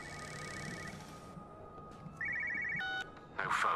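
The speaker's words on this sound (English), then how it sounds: "here's the phone ringing." A telephone rings inside the video game Everybody's Gone To The Rapture, giving bursts of electronic trilling that grow louder toward the end, with no voices over it.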